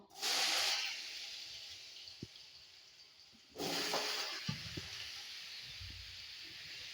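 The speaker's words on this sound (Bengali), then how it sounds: "এই যে আলু ছোট ছোট করে কেটে রেখেছি এই সাইজে। তেলটা গরম হয়ে গেছে, দিয়ে দেবো" Small chopped potato pieces hit hot oil in two loud bursts of sizzling hiss, each fading to a steady crackle, with a few light knocks in between.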